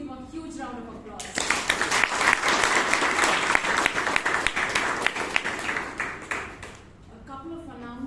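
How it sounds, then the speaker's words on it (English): A Bangalore Toastmasters meeting audience gives a big round of applause for Toastmaster Aditya, several seconds of full, close clapping that ends and gives way to a voice speaking. "I would request us to please give him a huge round of applause"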